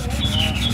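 Hand sanding of car door body filler with fine 600-grit sandpaper, a steady continuous rubbing scrape with faint repeating strokes, close and moderately loud with no talk.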